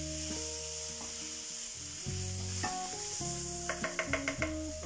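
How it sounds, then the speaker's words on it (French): Lardons and onions sweating in a pan for an Alsatian flammekueche, a steady soft sizzle with light stirring, partly under background music and a quick run of small taps near the end. "notre mélange lardons et oignons. On va les faire suer tout simplement."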